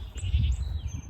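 A baby goat bleats close by during indoor play on a rainy day, a short, loud, wavering cry with no talking.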